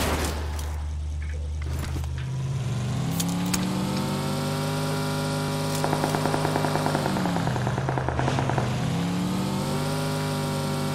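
Car engine revving in the battle royale game PUBG Lite, a steady loud drone that rises and falls in pitch as the vehicle accelerates and shifts, with a rattling texture partway through, no talk over it.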